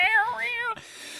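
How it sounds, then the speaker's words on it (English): A cat meows aboard the ship in the video game Alien: Isolation, two drawn-out, clear, close calls in quick succession, then a quiet fade into low background hum. "that's the cat that's always on board the ship"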